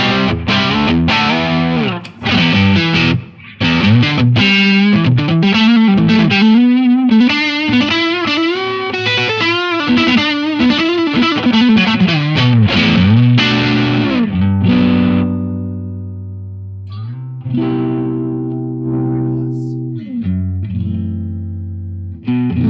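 Heavily distorted electric guitar through a rich-sounding distortion effects pedal on the bridge pickup, playing loud, dense chords and riffs that settle into sustained ringing notes near the end, with no talk.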